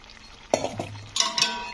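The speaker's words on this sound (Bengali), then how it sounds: "সবজিগুলো দিয়ে পুরো ডাঁটার সঙ্গে কিন্তু ওপর নিচ করে নাড়াচাড়া করতে হবে" Fried vegetables, potato and eggplant, being stirred together with soft drumstick stalks in a pan: two short bursts of scraping and clattering utensil strokes, close and moderately loud, with no talk.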